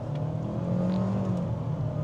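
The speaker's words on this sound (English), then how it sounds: "Your car. The Tiggo 4 Pro. Put our foot down." Chery Tiggo 4 Pro SUV accelerating hard in sport mode, a steady, moderately loud engine drone with a low rumble building slightly over a couple of seconds, heard from inside the cabin.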